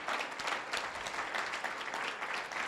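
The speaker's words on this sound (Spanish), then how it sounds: "Yo quiero invitarle a que le dé nuevamente un aplauso al Señor" Church congregation applauding in praise, a steady dense wash of clapping from many hands throughout, moderately loud and even.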